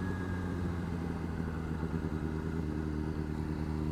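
A Honda CBR600RR sport motorcycle being ridden, its engine giving a steady, continuous mid-pitched drone with a low rumble that holds level throughout, close and fairly loud with no talk.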